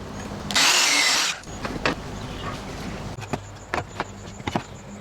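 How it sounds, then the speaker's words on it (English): A miter saw makes a 45-degree angle cut in wood for a two-tone poplar and ash frame, one loud, steady whining cut of about a second near the start, then quieter knocks and handling clatter. "Here I'm making the 45-degree angle cuts on the miter saw."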